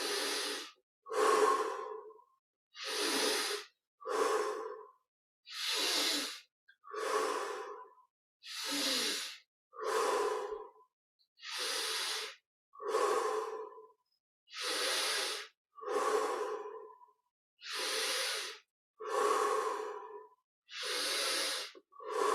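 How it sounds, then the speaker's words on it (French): Slow, deliberate breaths drawn in through the nose and pushed out through the mouth during a guided meditation, close and clear, repeating in an even rhythm of about a dozen airy cycles with silence between them. "On inspire par le nez, on expire par la bouche."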